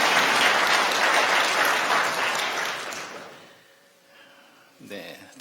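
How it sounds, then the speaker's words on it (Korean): A church congregation at a Sunday service applauds to encourage a young member leaving for military service. The clapping is dense and sustained, then thins out and fades into room quiet, with a brief stir of noise at the end. "격려의 박수 부탁드립니다."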